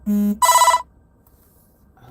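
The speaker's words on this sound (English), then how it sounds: "let me silence my phone because it's about to go nuts" A mobile phone rings during a church service, two loud close electronic tones in quick succession, a lower buzz then a brighter chime, followed by near silence and a voice beginning.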